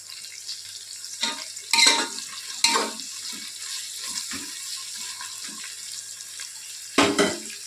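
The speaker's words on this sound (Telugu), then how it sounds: "రెండు రెబ్బల కరివేపాకు సరిపోతుంది ఇది మంచిగా ఫ్రై చేసుకోవాలి" Curry leaves frying in a pan, with bursts of crackling sizzle and a few stirring scrapes against a quiet background.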